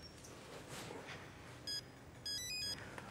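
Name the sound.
telephone ringing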